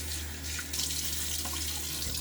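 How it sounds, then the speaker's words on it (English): Tap water running into a bathroom sink, a steady close hiss with a brief splash as water is thrown onto the face while shaving. "Throw water on my face."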